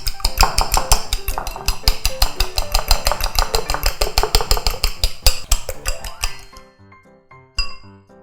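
Eggs seasoned with a pinch of salt are beaten in a bowl, a fast, steady run of close clinking whisk strokes that stops abruptly, followed by a brief final clatter.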